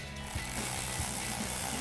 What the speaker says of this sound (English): slide our filter over the end and tighten down our hose clamp